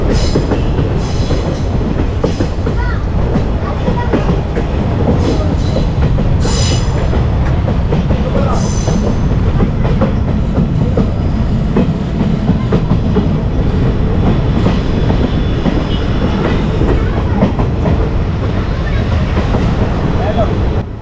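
A train rumbling steadily along the rails on the Kollam–Tenkasi line, loud and close, with a continuous heavy roar and faint rhythmic clatter throughout.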